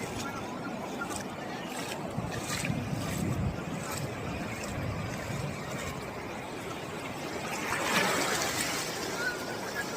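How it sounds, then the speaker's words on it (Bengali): Sea waves at Bakkhali beach, a continuous broad wash of surf with wind buffeting the microphone, swelling into a louder breaking wave toward the end. "পরপর ঢেউ আসছে পরপর।"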